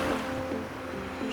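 Sea waves wash onto the beach at Cox's Bazar in a brief, steady surge, the surf hissing and rolling close by with a light wind over it.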